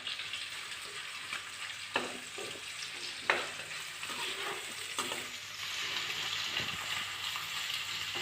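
Onions, garlic and ginger fry in a pan with a steady, close sizzle and hiss, broken now and then by the scrape and clack of stirring. No one speaks.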